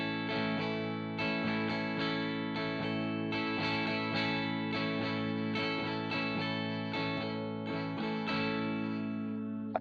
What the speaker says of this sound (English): a regular strum would sound like this